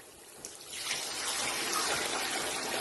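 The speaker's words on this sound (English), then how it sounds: "Now I'm going to add my water now." Water poured steadily into a cooking pot, a continuous close splashing trickle that starts after a brief pause and holds at even loudness, with no talking.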